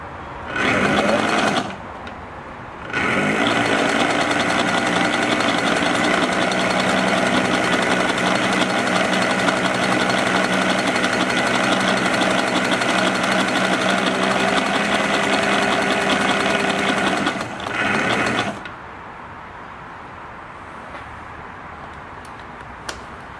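An Elna Supermatic sewing machine stitches a wide zigzag with a short stitch length. It runs in a brief burst, pauses, then buzzes in a long, steady, close run before stopping with a short final burst.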